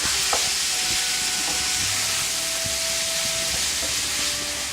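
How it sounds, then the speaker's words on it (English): Ground meat and onions sauté in a pan for eggplant rollatini, making a loud, steady sizzling hiss with occasional stirring scrapes and knocks, close and without talk. "we break up the meat in the onions, let it cook and saute with the onions really well, and mix it up."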